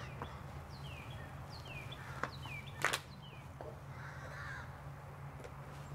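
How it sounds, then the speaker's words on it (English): Crows mobbing a hawk overhead give a run of repeated caws, moderately distant outdoors, with a few sharp knocks mixed in and no talking. "Two like blackbirds or crows and a hawk up there. They're trying to push that hawk away."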